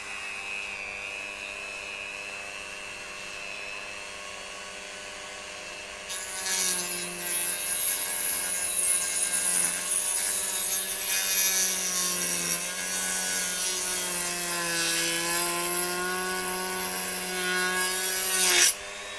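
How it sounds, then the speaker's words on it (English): A Dremel rotary tool whines at high speed, then bites in with a harsher grinding buzz as it cuts between the armour plates on the track guards of a 1/16 scale RC M26 Pershing tank. The grinding holds steady up close. "I'm going to use the Dremel to just cut through in between these armour plates on the track guards"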